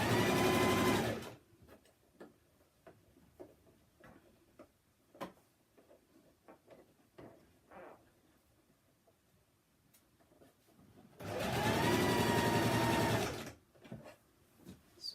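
A sewing machine stitches Ankara fabric for a cape in two loud runs at the start and near the end, with quiet ticks and handling clicks between them, close by and with no talking.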